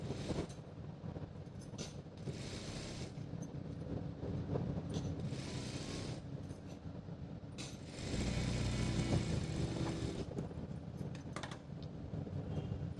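A sewing machine runs a lining seam on a blouse in quiet, intermittent bursts of rapid mechanical clatter, each run lasting a second or two with brief pauses between, heard close with no speech.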